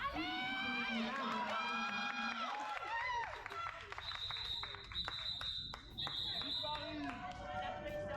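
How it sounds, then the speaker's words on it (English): An indoor roller derby crowd in Rotterdam cheers and shouts with high-pitched voices, sneaker squeaks and an announcer talking over the lively arena noise. "we have some French cheering"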